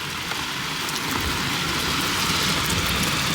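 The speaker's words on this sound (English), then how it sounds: "We're just hiding in a doorway for a minute because it is lashing down" Heavy rain lashes down outdoors, heard from a sheltering doorway as a dense, loud, continuous hiss of drops striking surfaces with no voices.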